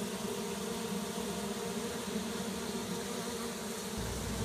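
Honeybees buzz in a dense, steady drone at a narrow entrance in a shed wall, loud and close throughout with no talk.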